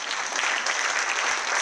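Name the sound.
audience applause for councilmember Dave Hamilton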